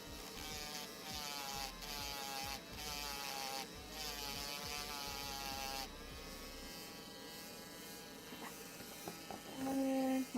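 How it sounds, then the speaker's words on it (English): A Dremel rotary tool runs steadily with a thin, buzzing whine that shifts in pitch as it works, fairly faint and with no talking. "We're almost done with the Dremel."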